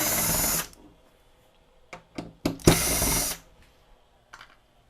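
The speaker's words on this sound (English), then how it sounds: "start zipping a couple of screws out of here" A handheld power driver spins screws out of the underside of a Sony PS-FL77 linear tracking turntable, with a loud whir, a few short clicks and bursts, a second longer whir, then quiet taps, up close.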